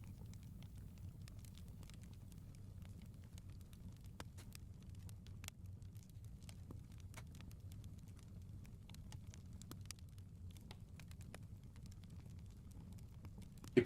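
A campfire crackles softly with scattered sharp pops and snaps over a low, steady rumble, faint and unaccompanied by any voice.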